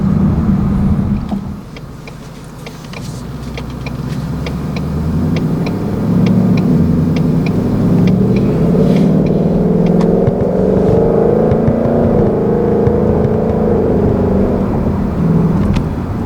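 A 2018 Ford Mustang GT automatic drives along, its engine note dipping then building through a long series of quick gear changes, a loud steady hum with rising and falling pitch and light ticking over road noise.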